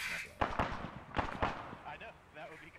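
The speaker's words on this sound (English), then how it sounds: "There's an explosion to the east" Explosions in the military shooter ArmA 3: several sharp blasts and cracks in quick succession, fairly distant, with some speech-like radio chatter faintly mixed in.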